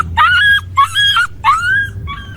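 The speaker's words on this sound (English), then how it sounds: "is that your dog?" A dog whimpers and yips in three or four drawn-out, rising whines with short gaps between them, close and loud, with a low hum underneath.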